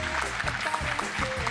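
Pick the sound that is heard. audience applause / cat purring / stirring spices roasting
audience applause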